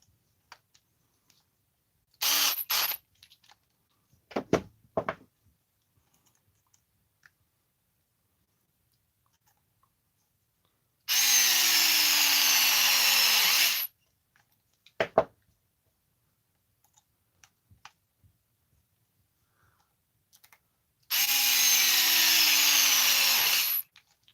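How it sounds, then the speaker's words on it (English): A power driver with sharp bits runs screws into a Redcat Racing Kaiju RC car: two long steady whirring bursts of several seconds each, separated by scattered clicks and taps of bits and parts being handled up close. "these bits, man, these things bite into the screws"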